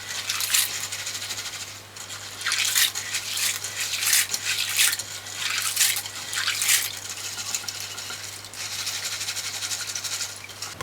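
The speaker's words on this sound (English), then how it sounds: "Put this in a bigger pot because I want you to wash it properly" Dry kidney beans rinsed in a pot of water, a rattly clatter of beans against the pot in repeated bursts of stirring and swishing, close and fairly loud, with no talk.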